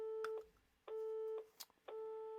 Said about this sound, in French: Mais le téléphone, il est en train de biper, il a pas sonné encore.